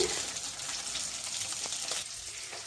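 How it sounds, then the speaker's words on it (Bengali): Fish pieces fry in a pan with a soft, steady hiss and crackle of oil, close but fairly quiet, no voices present. "তো একটু একটু করে সবগুলো ভেজে নিচ্ছি"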